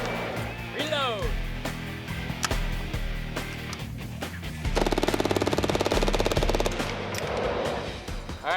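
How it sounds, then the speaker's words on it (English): A MAC-10 submachine gun emptying a full magazine in rapid bursts of loud, dense automatic fire, then a quick reload and a second long continuous burst, with voices shouting around the shooting. "this is MAC-10, unloading full magazine, reloading, and unloading magazine again."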